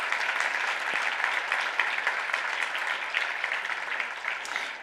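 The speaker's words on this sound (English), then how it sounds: "Please, a warm applause for the Zero Emission Group." An audience at a panel event on renewable energy applauds warmly, a dense, steady patter of many hands clapping for several seconds without speech.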